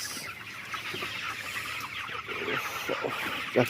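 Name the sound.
chickens clucking on a poultry farm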